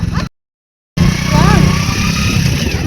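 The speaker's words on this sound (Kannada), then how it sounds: "ಹೊರಟ್ರು ಎಲ್ಲ ಬೈಕಲ್ಲಿ." Motorcycles ride off nearby with a loud, rough engine drone. Sound cuts out briefly near the start, then returns and holds steady, with voices mixed in.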